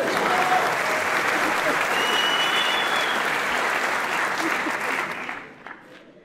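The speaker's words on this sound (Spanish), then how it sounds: "Aplaudan, aplaudan." Audience at a Colombian comedy show breaks into loud, dense applause that holds steady for about five seconds and then quickly fades, with faint voices mixed in.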